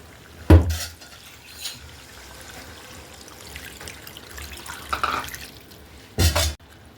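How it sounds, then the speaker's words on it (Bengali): Water is poured into a pot of country duck curry with papaya and potatoes, with a sharp clatter at the start, a soft trickle through the middle and another loud splash near the end. "এখন আমি পানি ঢেলে দিচ্ছি"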